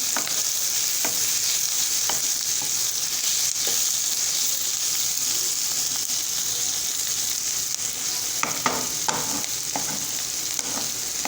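Onion chutney with salt roasts and is stirred in a pan. A constant frying sizzle carries on throughout, and scraping spoon strokes grow more frequent toward the end. No one speaks.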